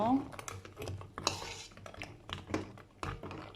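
A utensil scrapes and clinks against a pan in irregular bursts while stirring crispy tulumba dessert, close by, with light metallic knocks.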